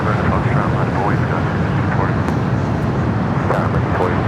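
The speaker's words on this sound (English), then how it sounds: "you got that E-Jet up first here this morning. Heading to El Paso, Texas." An Embraer E-Jet airliner takes off from a runway at LAX, producing a steady, loud, broadband engine roar with wind rumble, and a voice is faintly present beneath it.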